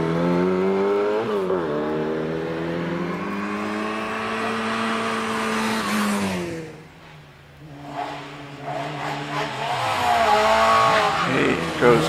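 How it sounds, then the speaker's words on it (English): A Morris Mini Cooper S racing car, number 34, screams through the gears around the Pardon hairpin at Prescott hillclimb, its revs climbing loudly, then dipping while it brakes for the corner before accelerating hard again. "Morris Mini Cooper S, car number 34, Stephen Akers, comes around Pardon hairpin"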